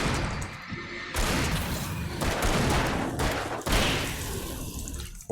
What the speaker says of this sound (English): 4 shots.